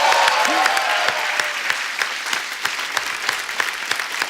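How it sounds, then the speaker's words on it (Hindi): Loud, dense applause from a television comedy show's studio audience, a steady wash of many hands clapping that runs throughout with a few sharper claps standing out. "तालियां।"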